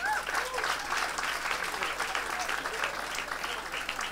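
A live comedy club audience claps briefly on request, a moderate patter of many hands with some whoops and voices mixed in, fairly even and not very loud.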